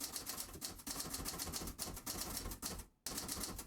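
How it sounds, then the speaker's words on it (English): Typewriter keys struck hard and fast in a dense, clattering run, close and continuous apart from one brief pause near the end, with no voices. "He's typing that with some anger, isn't he? He's smashing those keys."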